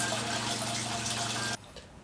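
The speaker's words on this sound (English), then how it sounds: "you pour antifreeze basically directly into the raw water strainer that gets sucked through the whole engine system" Antifreeze pours steadily into a sailboat's bilge pump and engine raw water strainer, a loud continuous gushing flow that cuts off abruptly near the end, leaving faint trickles.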